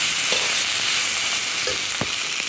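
Cauliflower and potatoes sizzle loudly in a pan after water is added, a close, steady hiss broken by a couple of brief stirring knocks.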